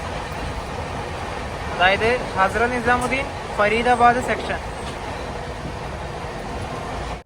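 An Indian Railways Navyug Express running at about 130 km/h on the Hazrat Nizamuddin–Faridabad section, with a steady rumbling roar of wheels and rails throughout. Someone talks over the noise the whole time.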